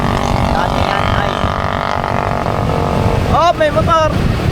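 Racing motorcycles in a newbie-category race drone loudly and continuously, with a nearby bike revving sharply through two quick rising bursts near the end under excited commentary.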